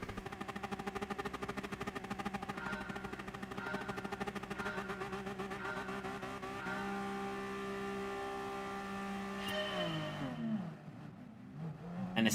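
Honda NSX race car in GT Sport at Spa in the wet, a steady high engine drone with a sustained tone that shifts pitch and then drops away near the end, loud and close with no talk.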